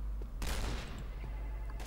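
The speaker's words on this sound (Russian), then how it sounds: "Вот это выстрел с двойного прицела." A single sharp gunshot blast in a game, loud and brief against a low steady hum.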